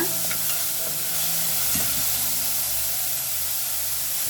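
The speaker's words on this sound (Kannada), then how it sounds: "ಬೆಳ್ಳುಳ್ಳಿನ ಚೆನ್ನಾಗಿ ಫ್ರೈ ಮಾಡ್ಕೊಬೇಕು ಟೊಮೊಟೊ ಜೊತೆಗೆ ಮಿಕ್ಸ್ ಆಗೋ ಥರ" Crushed garlic frying with tomatoes in a pan as they are stirred: a steady, close hiss of sizzling that runs unbroken throughout, with no talking.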